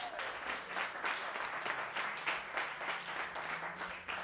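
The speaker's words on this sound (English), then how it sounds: "give yourselves a round of applause" An audience at a motivational seminar applauding, with dense, steady clapping from many hands sustained throughout at moderate distance, with no talking over it.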